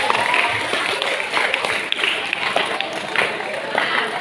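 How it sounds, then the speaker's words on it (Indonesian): Applause from an audience at a police traffic-safety talk, a dense steady patter of many hands filling the whole stretch, with some crowd noise and voices mixed in. "Ya, tepuk tangan."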